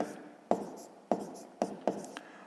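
A pen writing out sixth-grade math exercise notes on paper makes close, faint scratchy strokes, with several sharp taps as each new stroke starts at a steady, deliberate pace.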